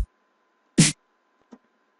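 Two separate kick drum hits programmed in FL Studio at 130 BPM for a basic dubstep beat: a strong, full hit followed about three quarters of a second later by a much quieter, shorter one, with silence around them.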